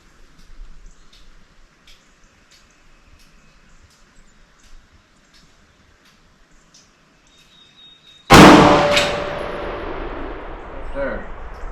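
A single AR-15 rifle shot fired outdoors, a sharp loud crack followed by a long decaying echo, after several seconds of quiet background.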